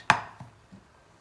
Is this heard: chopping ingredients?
yes